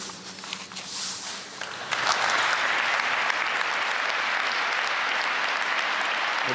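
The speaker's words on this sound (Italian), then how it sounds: "Vedete l'applauso anche fuori dalla chiesa dopo le parole del padre." Sustained applause from a large crowd outside a church, starting softer and swelling into steady, dense clapping that continues without pause.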